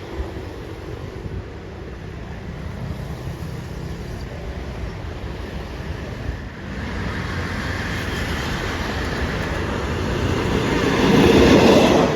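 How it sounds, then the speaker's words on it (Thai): Train 301, Bangkok to Lopburi, rumbles steadily nearby, the low rolling noise growing louder toward the end as it draws into Sam Sen station, with wheel hiss over it. "ขบวน 301 นะฮะกรุงเทพลบบุรี จะทำขบวนเข้าจอดที่สถานีรถไฟ สามเสนนะฮะ"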